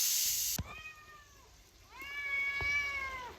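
A domestic cat meows twice in a kitchen, drawn-out and fairly faint, after a sharp hissing burst at the start, with a couple of light clicks in between.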